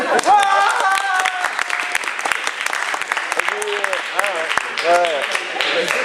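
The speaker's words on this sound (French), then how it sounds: "en tout cas, on peut l'applaudir, merci" Audience applause in a comedic stage setting, steady clapping and crowd noise running throughout with voices speaking and laughing on top.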